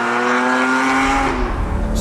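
A Lamborghini Murcielago supercar engine with replaced exhaust parts revs loudly and close, its tone holding high before dropping as the throttle eases off.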